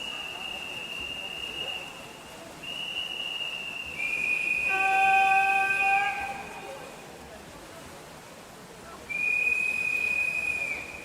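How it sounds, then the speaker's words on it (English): Several long whistle blasts signal the final out-and-back lap for the leaders at a winter short course championship, separated by pauses, with a commentator talking over them. "Going to get some whistles now for our leaders."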